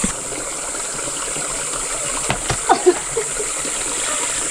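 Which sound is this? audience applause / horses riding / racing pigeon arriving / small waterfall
small waterfall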